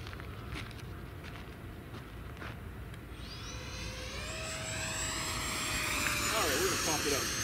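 An L-39 Albatros jet flies on a spring day in Montana, its steady engine roar rising, with a whining tone sweeping upward as it climbs and grows louder toward the end.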